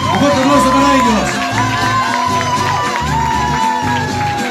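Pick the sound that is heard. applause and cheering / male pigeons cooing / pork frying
applause and cheering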